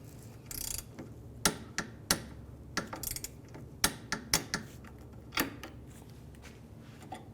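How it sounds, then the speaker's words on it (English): Wrench torquing a link bolt on the lower control arm of a 2003-2011 Honda Element, tightened to 29 foot-pounds. It gives a string of sharp, close ratcheting clicks, irregularly spaced, alone. "our link connected to our control arm is going to get torqued down to 29 foot-pounds"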